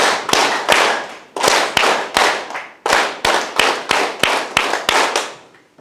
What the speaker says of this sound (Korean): 337 박수를 한번 하고 시작을 하도록 하겠습니다.